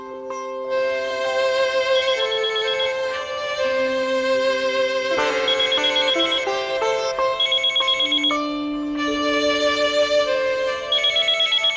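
A melodic electronic phone ringtone plays continuously, bright and close, cycling through a repeating tune with no voices.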